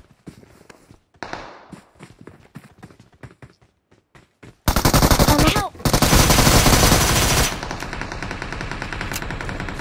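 Automatic gunfire in the mobile battle-royale game BGMI: scattered soft clicks and steps at first, then loud, dense bursts of rapid fire that carry on to the end, close and dominant.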